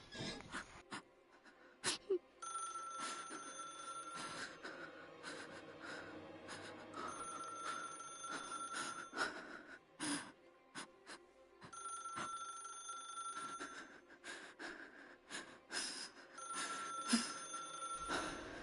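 An old-style telephone bell rings in the horror video game Dark Atlas: Infernum, repeating in bursts of shrill ringing separated by short pauses, faint under scattered game sounds and brief gasps.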